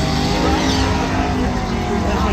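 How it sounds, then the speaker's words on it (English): Loud, steady engine roar from an inside-out drag car at winter drag races, a broad rumble that holds strong and even throughout, with a person talking over it. "This is just incredible inside-out drag car."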